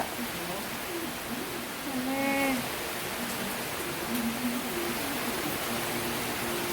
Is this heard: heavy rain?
yes